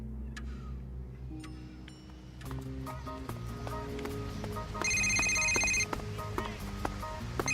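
A telephone rings in a radio drama, a ringing bell pattern over a layered musical and ticking background that builds, with a louder burst of ringing near the end.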